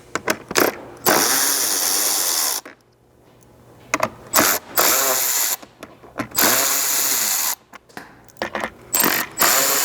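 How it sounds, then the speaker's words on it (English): A 7mm socket on a ratchet clicks rapidly in repeated bursts while removing the screws that join sections of the front bumper fascia on a Chevy Colorado Z71, loud and close with brief pauses between bursts. "you'll need a 7mm socket to remove the 3 screws holding those two together here"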